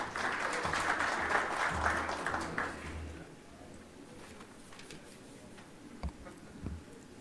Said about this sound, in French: On peut l'applaudir sous vos applaudissements.